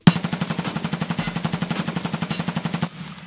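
A weapon in the video game Escape From Tarkov fires one fast, unbroken automatic burst of about thirty evenly spaced shots. The shots are loud and close, then the burst cuts off abruptly.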